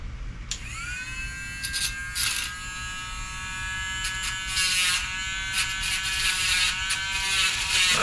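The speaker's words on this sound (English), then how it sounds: "I have a little Dremel tool that I'm going to use to rough up that wire where this blade spins" A small Dremel rotary tool grinds down and roughens the wire arm of a buzzbait lure, a steady high electric whine with short grinding bursts as the bit touches the metal.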